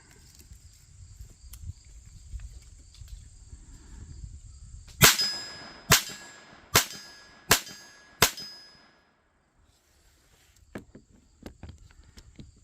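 Five sharp metallic rings of .22LR rounds from a Keltec P17 pistol striking a steel gong at 50 yards, spaced roughly a second apart, each clang decaying with a bright resonant tail over faint outdoor ambience.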